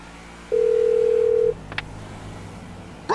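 Phone call on speakerphone in GTA V: a loud, steady electronic tone held for about a second, then a brief beep and quiet line hiss.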